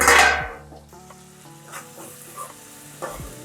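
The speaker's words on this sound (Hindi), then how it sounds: "तो टमाटर को दोस्तों अच्छे से पकाइए मीडियम फ्लेम पे।" Tomatoes cooking in oil over a medium flame sizzle softly as a spoon stirs them, with a louder burst of frying at the start and a few light scraping stirs against the pan afterward.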